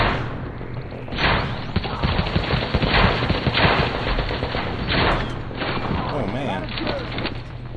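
Automated turret fire in The Division: rapid bursts of gunfire rattle repeatedly at close range over a busy game soundscape, with a voice talking through parts of it.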